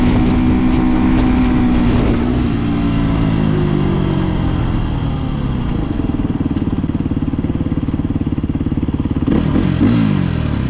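Motorcycle engine droning steadily throughout while a rider practises wheelies on a wet road, the revs rising and falling with loud, continuous mechanical clatter close by.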